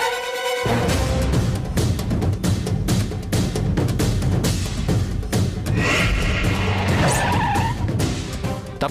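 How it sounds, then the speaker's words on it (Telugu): Cars roar close with engines revving and tires skidding and squealing on the road, loud and constant throughout, with music layered over the engine noise. "ఆగు, కార్లు వస్తున్నాయి"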